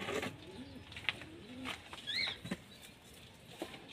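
Soft racing pigeon coos come and go at close range, with a brief flutter of wings and light tapping in a quiet setting.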